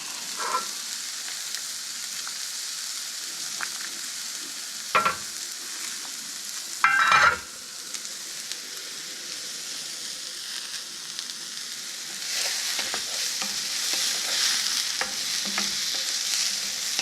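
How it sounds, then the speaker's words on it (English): Asparagus pasta primavera sizzles in a pan while being stirred, a continuous close frying hiss broken by a few sharp scraping stirs midway and growing slightly busier toward the end. "Give this a stir, make sure nothing's sticking."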